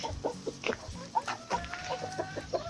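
Several hens clucking and murmuring close by, short overlapping calls in an irregular rhythm with no talking.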